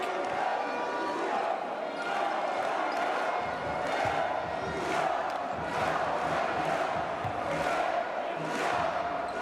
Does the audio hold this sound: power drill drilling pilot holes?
no